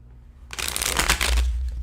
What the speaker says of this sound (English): I'm gonna just shuffle this a little bit so I can clear up some energy.